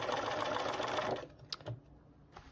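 A sewing machine stitches a quilt block, its fast rapid whir running steadily for just over a second before stopping, followed by a few faint clicks and handling sounds.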